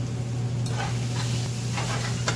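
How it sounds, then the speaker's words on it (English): Onions frying in a pan with bacon fat as they turn translucent: a steady close sizzle under a low hum, with a few faint stirring scrapes. "So our onions are starting to turn translucent."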